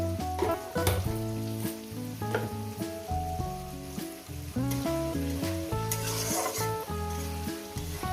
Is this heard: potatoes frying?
yes